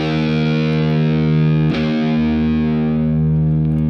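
A sustained, distorted electric guitar chord rings out loud and steady, with a brief pick scrape midway and a washy reverb tail.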